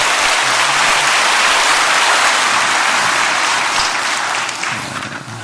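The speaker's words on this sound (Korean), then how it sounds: "우리 하나님께 감사의 박수 올려드립니다." A church congregation claps together in loud, dense applause filling a large hall, holding steady and then tapering off toward the end.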